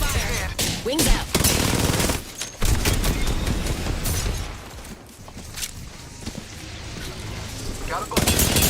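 Dense gunfire from a competitive Apex Legends match, with rapid bursts and volleys layered over game effects throughout, loud and sustained, with brief lulls between exchanges.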